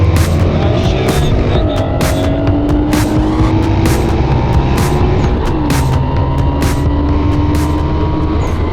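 A tuned Japanese car, among a Prelude Turbo, Evo 9 and Galant VR4 racing BMWs, drives hard with a loud continuous engine drone and rising, shifting tones, heard close throughout.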